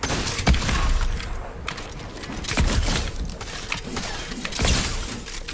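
Gunfire during a squads match in a video game, several heavy shots and crashing bursts in close succession, loud and near, with no talk over it.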